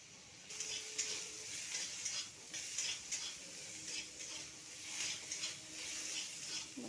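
Potatoes fry in hot oil with salt and turmeric, a steady close sizzle with occasional stirring scrapes in a pan, no voices.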